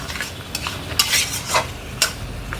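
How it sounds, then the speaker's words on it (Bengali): Chicken kosha is stir-fried in a covered pan, a low sizzle under a few sharp spatula scrapes and knocks that come in short bursts about every half second, close and clear. "ভালোভাবে কষিয়ে নেব। একটু ঢাকা দিয়ে দিয়ে কষাবো।"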